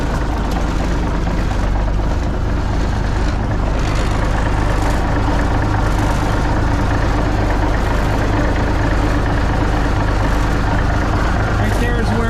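A cabover truck engine runs at a steady, loud idle, a continuous low rumble with no breaks from start to finish.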